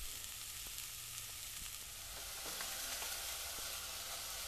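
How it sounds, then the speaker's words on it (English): Onions sizzle and fry in a pan for a broccoli, pea and edamame soup, a steady crackling hiss with occasional pops and light stirring, faint and close, with no talking. "So once the onions are frying"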